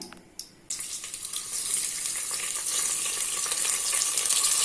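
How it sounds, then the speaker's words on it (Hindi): Finely chopped onion drops into hot oil in a pan, starting with a couple of brief clicks before a sudden loud sizzle that holds steady and crackles on, with no one talking. "अभी इसमें फाइनली चॉप किया हुआ ऑनियन ऐड कर लेना है"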